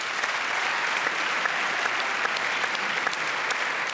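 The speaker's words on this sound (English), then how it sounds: "Please give yourselves a round of applause." Studio audience at Melbourne Recital Centre applauds after a televised Q&A panel discussion, a sustained, even wash of many hands clapping for several seconds without talk.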